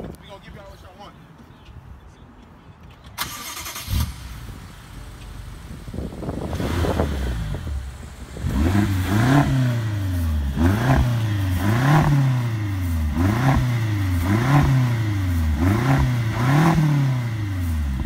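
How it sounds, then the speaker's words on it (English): A BMW X6 M with a twin-turbo V8 starts up and then revs repeatedly in quick, rhythmic blips, loud and close. Brief talk and wind buffeting come before the engine. "Alright, I'll rev it."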